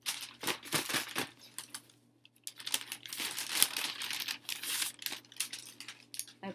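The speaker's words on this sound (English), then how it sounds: "So let's go ahead and pull out another card out of our bag. Shake it up again, nice and easy." A bag holding word cards shaken and a card pulled out: bursts of crinkly rustling and shuffling, a short pause, then longer rattling and crinkling, close and fairly quiet with no talking.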